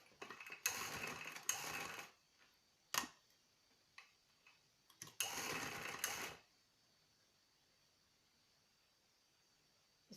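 Sewing machine stitching a shirt shoulder seam in short bursts, two longer runs and a few brief ticks in between, close and fairly quiet in an otherwise still room.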